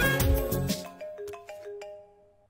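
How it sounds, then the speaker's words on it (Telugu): A telephone ringtone plays after a number is dialed, a short melodic series of electronic tones that fades out over a couple of seconds, with no one speaking. "కొట్టు ఫోన్ కొట్టు."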